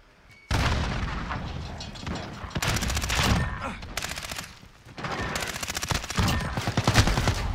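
Gunfire in a video game, sustained loud bursts of automatic fire with booming shots, near and continuous across several long volleys with brief gaps between them.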